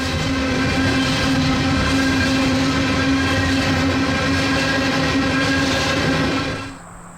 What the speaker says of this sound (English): That's the wheels rolling over newly grinded rail.